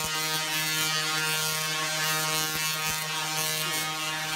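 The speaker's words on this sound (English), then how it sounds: "So that is a Tesla coil." A Tesla coil gives a loud, steady electrical buzz with a strong harmonic hum, continuous throughout with a few faint clicks.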